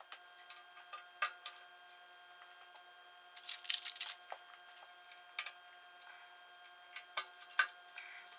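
Pop rivets being set into a metal strip on a Triumph Spitfire Mk2/3 seat back, heard as a scattered series of sharp close clicks and snaps from the riveting tool, with brief rattly bursts in between and no talking.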